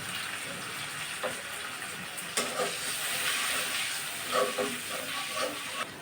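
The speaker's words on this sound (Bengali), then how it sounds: "পেঁয়াজ রসুন আর চিংড়ি মাছটা ভাজা হয়ে গেছে। এখন আমি কষানোর জন্য একটু পানি দিয়ে দেব।" Water poured into a hot pan of fried onion, garlic and prawns sets off a loud, steady hiss of steam and sizzling, with a sharper burst partway through and a few small clatters, no talk.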